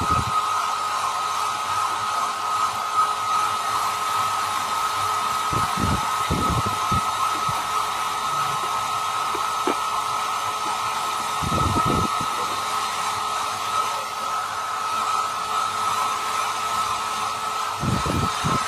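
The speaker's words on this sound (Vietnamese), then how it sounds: "Các bạn dùng máy sấy tóc để sấy các bạn nhé." Hair dryer blowing on Bluetooth earbuds, a steady loud whooshing whine with a high tonal hum, broken by a few brief clatters and knocks over about nineteen seconds.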